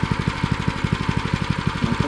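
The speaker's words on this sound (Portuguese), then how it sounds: "pra entrar um trator grande aqui, é tão difícil. Então a gente opta por um tratorito." A small tractor's engine runs on a small farm plot being prepared for planting, chugging in a fast, even knocking rhythm that stays steady and close throughout.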